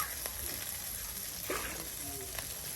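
Crabs frying in a pan in a village kitchen in Bangladesh, giving a steady close sizzle with a few soft stirring scrapes running through it.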